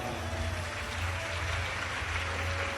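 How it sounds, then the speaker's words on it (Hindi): A large crowd at a live Shiv Mahapuran katha gathering claps loudly for a daughter, a continuous dense wash of applause over a low electrical hum, with no voices. "एक बार बेटी के लिए जोरदार ताली बजाओ।"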